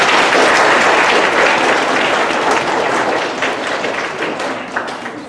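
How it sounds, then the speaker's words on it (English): A school assembly audience of sixth graders bursts into loud, dense applause that stays steady and close before slowly easing off toward the end. "please, let's give a nice round of applause for Mr. Peace."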